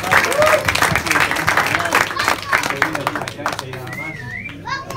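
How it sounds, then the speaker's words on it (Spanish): Schoolchildren applauding in a school, lively clapping under excited kids' voices and shouts, thinning toward the end as chatter takes over. "le damos un aplauso también a Fran"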